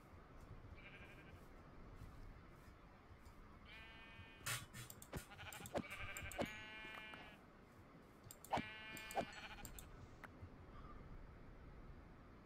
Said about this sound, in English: The sheep's up here.